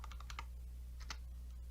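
A number typed on a computer keyboard: a short, soft burst of four or five key taps, then a brief pause and two more taps, quiet against a low steady hum.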